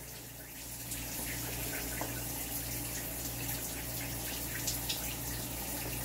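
Water runs from a newly installed shower in a steady, even hiss over a constant low hum, with no voices.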